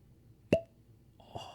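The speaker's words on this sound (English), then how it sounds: "Rum cork pop." A single sharp cork pop from a rum bottle, close and fairly loud, followed by a short ringing tail and a faint clink about a second later, no voices.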